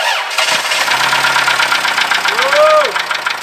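A rebuilt Toyota Camry engine runs loudly and continuously close by, with a rough knocking rattle under the steady drone and a whining pitch sweep near the end.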